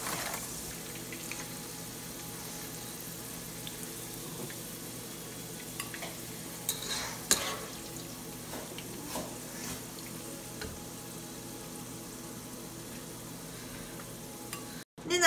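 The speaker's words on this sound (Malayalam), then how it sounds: "അപ്പോൾ അണ്ടിപ്പരിപ്പും മുന്തിരിങ്ങയും നന്നായിട്ട് മൂത്തിട്ടുണ്ട്. ഇനി നമുക്കിത് എണ്ണയിൽ നിന്നങ്ങ് കോരി മാറ്റാം." Cashews and raisins fry in oil for a Kerala-style beef dum biryani, giving a faint, continuous low sizzle with occasional soft clinks and scrapes over a long, quiet stretch.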